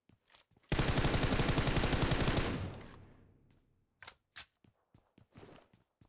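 A sustained burst of rapid automatic gunfire in the mobile battle royale PUBG Mobile lasts about two seconds and trails off into echo, followed by several sharp single shots or clicks spaced apart.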